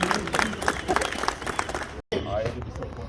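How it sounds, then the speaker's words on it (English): Crowd applause at an emergency rally about the addiction crisis, a dense burst of clapping mixed with cheering and babble, cutting out briefly before resuming more faintly. "Can we get a round of applause?"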